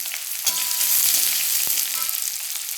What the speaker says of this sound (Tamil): வெங்காயம் நறுக்கி வச்ச வெங்காயத்தை போட்டு வதக்கிக்கலாங்க